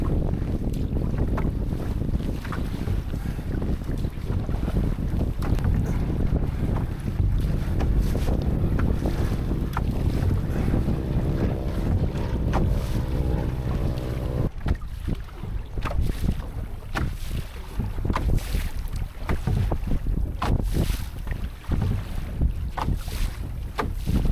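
Strong spring south wind buffets the microphone while broadside waves slap and rush against a canoe crossing open water on a Temagami trip near the Lady Evelyn River, a continuous roaring, splashing wash with intermittent sharper knocks.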